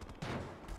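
A brief burst of gunfire from the video game GTA V gives a sharp crack followed by a rough, rumbling tail. It is short and fairly faint, and no voices are heard.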